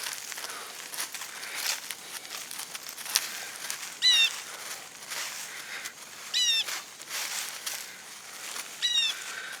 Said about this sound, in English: I have a friendly bird nearby that wants to go for the sunflower seeds